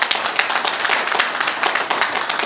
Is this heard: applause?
yes